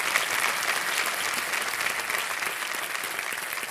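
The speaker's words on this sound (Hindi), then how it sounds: "एक बार फिर जोरदार तालियां कर्नल आपके लिए" A large studio audience at a televised quiz show applauds a colonel, steady dense clapping that holds loud and even throughout with no pauses.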